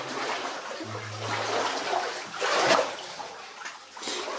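Water falls down through a mine working, a close, steady rushing splash with a brief low hum early on and a louder surge of splattering midway.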